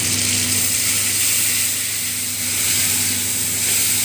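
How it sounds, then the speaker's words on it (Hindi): Crushed tomatoes frying with browned onions in a pan, a loud, steady hissing sizzle that holds constant and close for the whole stretch. "ये टमाटर अच्छे से फ्राई होने के लिए 2 मिनट के लिए छोड़ दिया"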